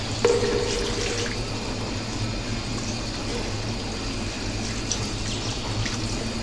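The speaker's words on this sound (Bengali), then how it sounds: "এরপর যোগ করে দেব সামান্য পরিমাণ পানি" Water poured into a pan of thick, well-fried chicken curry, a steady rushing pour with a low hum underneath, close and continuous throughout without speech.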